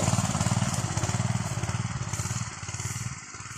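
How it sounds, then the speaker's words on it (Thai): An engine-driven water pump drains a rice field before harvest, its small engine chugging in a steady, loud, fast pulsing rhythm that runs throughout, close by and outdoors. "สูบน้ำไป"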